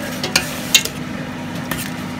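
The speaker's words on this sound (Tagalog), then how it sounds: "O yan, haluin mo lang." Pork adobo is stirred in a pan over steady sizzling, with a few brief utensil scrapes and clinks against the pan and no voices.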